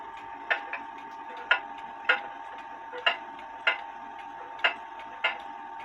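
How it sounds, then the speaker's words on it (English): An antique grandfather clock by Benjamin Gray of Loughborough under repair, ticking in a steady, slightly uneven tick-tock of about nine crisp, close, moderately loud beats with no talk. "So here I have a ruler set up so I can listen to the tick-tocks"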